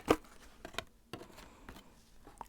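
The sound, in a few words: tarot cards shuffling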